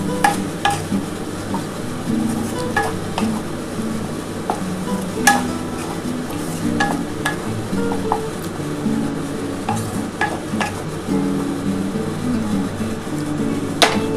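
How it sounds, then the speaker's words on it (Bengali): Egg chow mein ingredients seasoned with black pepper are stirred in a pan, with repeated sharp metallic clacks and scrapes of a utensil against the pan over a soft background sizzle, close and without speech. "এবার এটা ভালো করে একটুখানি নাড়াচাড়া করে নিতে হবে।"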